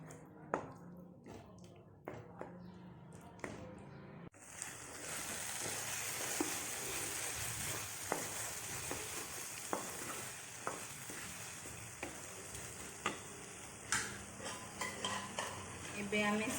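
A jackfruit and potato curry fries in a pan, a steady sizzle rising after a few opening clinks, with a spoon scraping and tapping against the metal as it is stirred.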